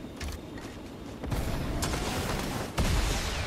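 Gunfire in an online shooter video game, bursts of shots and booms swelling in loudness with a couple of sharp jumps, heard alone without talk.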